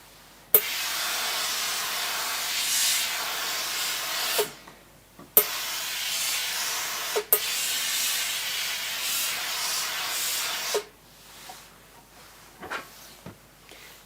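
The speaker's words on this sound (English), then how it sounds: "just give it a little bit of steam" Steam iron hissing over fabric on a pressing mat while crafting a hexagon flap bag, long steady bursts of steam with sharp clicks at each start and stop, close and loud.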